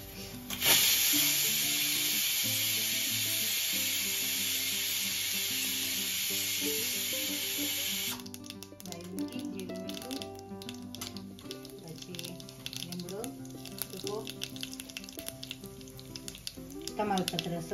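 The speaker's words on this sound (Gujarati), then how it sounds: "હવે છે ને મરચાના શાકમાં વઘાર કરું છું" Chili vegetable curry (marcha nu shak) being tempered in a hot pan, a loud, steady sizzle and crackle for the first eight seconds that then dies down into softer stirring and clinks, with scattered voice-like sounds.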